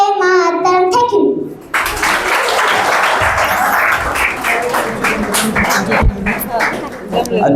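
Right after a child finishes singing Vande Mataram at a children's singing competition, the audience breaks into loud, sustained applause that continues for several seconds, and faint voices are audible under the clapping.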